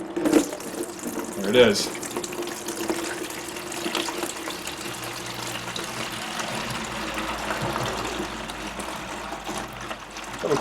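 Coolant pours from a supercharger aftercooler into a bucket as a steady splashing trickle, with someone speaking briefly over the flow.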